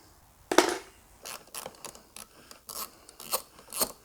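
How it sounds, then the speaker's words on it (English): A Rick Rack GoPro mount is unscrewed from a motorcycle, giving a burst of close metallic scraping followed by irregular short clicks and rubs, with no talking. "our third one's actually our Rick Rack mount for the GoPro, which we can just unscrew this"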